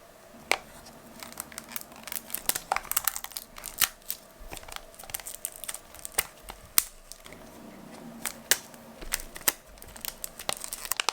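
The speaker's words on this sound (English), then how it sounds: "we'll show you how I remove the plastic from the blushes" Crinkly plastic wrap is peeled and torn off compact blush packaging in a quiet room, with close, soft crackles and sharp little snaps coming in uneven bursts and no talking.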